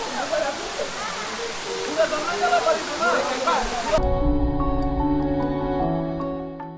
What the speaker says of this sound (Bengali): বাহ পানি তো একদম জোশ ভালোই পানি পড়তেছে এখন